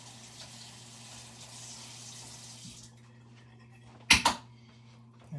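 A kitchen tap runs as something is rinsed off under the stream, a steady close hiss of water for about three seconds that then stops, followed by a brief clattering knock.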